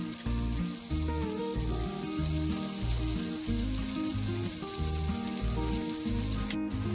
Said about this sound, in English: Saute on a medium flame for a few minutes and add salt according to your taste.